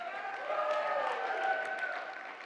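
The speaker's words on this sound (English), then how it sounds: "Are y'all ready to cheer for Josh" An audience at a live event claps and cheers together, a steady wash of applause with raised voices whooping, moderately distant and sustained throughout.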